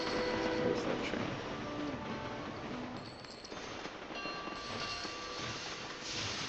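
Train running in the rail-building video game Sid Meier's Railroads, a steady loud rumble of rolling wagons with faint rail clatter throughout, no speech over it.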